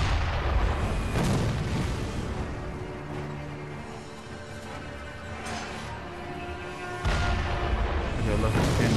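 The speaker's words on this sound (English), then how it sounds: "He loves his cannons." Cannon fire in Sekiro: Shadows Die Twice, several heavy booming blasts spaced a few seconds apart with rumbling tails, set amid other in-game sounds.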